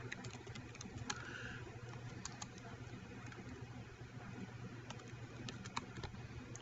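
Faint, scattered key clicks of typing on a computer keyboard, irregular and quiet over a low steady hum, with no speech.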